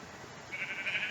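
A sheep in the video game Minecraft gives a short bleat that swells in the second half, fairly clear against a quiet background.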